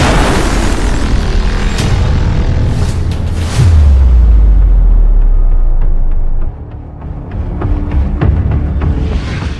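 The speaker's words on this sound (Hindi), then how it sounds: "धमाका हुआ, जोरदार झटका, गर्द का तूफान" A loud explosion blast from an audio drama hits with a deep booming rumble that swells and lingers for a few seconds, then gives way to scattered debris-like crackles and a quieter tail.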